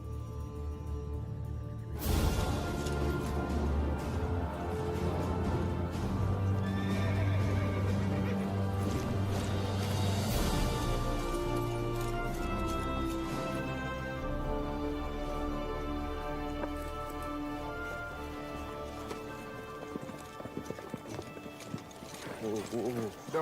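Horses whinnying and neighing loudly with clip-clopping hooves in a Western action film scene, layered over music and other effects, with voices talking through parts of it.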